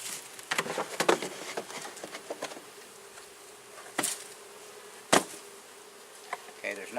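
Honeybees buzzing around an opened hive box just after a puff of smoke, a steady low drone with several sharp clicks and knocks from handling the frames, close by.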